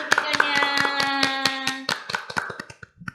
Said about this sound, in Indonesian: berikan tepuk tangan yang meriah untuk video cuplikannya